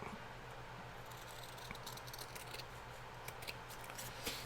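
Scissors snip off loose strings on a junk journal made from scraps, a series of soft, quick, close cutting clicks over quiet room noise, with no voices.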